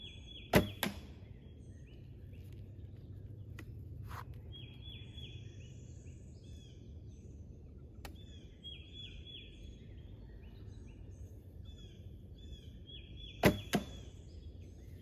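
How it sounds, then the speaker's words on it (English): A longbow with ILF limbs on a 19-inch Tbow riser looses arrows outdoors: several sharp, isolated snaps spaced seconds apart, some followed by a quick second thud, over a quiet background with faint birdsong. "the bow's really smooth. It's not that bad loud. I mean, it's got a little bit of noise to it"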